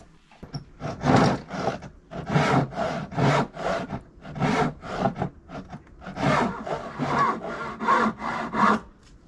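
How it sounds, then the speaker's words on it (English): Rhythmic back-and-forth rasping of abrasive on wood during a sailboat rebuild, steady strokes repeating about twice a second, close and fairly loud. "I'm gonna carry on sanding."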